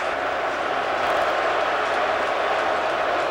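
A packed football stadium crowd at a Cowboys–Eagles game in Philadelphia in December 2008 roars after a dropped pass, a dense, loud, unbroken wash of noise with no distinct voices.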